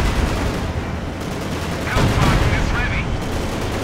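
Tank gunfire in the real-time strategy game Company of Heroes 2, with bursts of shots and a louder booming blast near the middle over constant battle noise.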